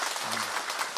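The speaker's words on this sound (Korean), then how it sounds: "한번 박수로" A church congregation at a Korean Sunday service claps in welcome, a brief burst of dense, even applause filling the room.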